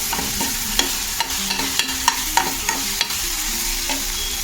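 Turmeric and asafoetida are stirred into misal masala frying in a pan, a steady loud sizzle with repeated sharp scrapes and taps of the spoon against the pan, no voices.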